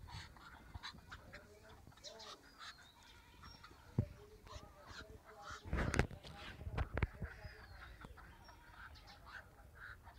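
Chuna ducks, a domestic breed kept around homes and yards, give repeated honking and quacking calls close by, with a louder burst of calls midway, alongside some background talk.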